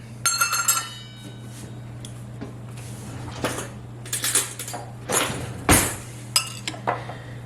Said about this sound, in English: We're going to stir it around so it can start to macerate these strawberries.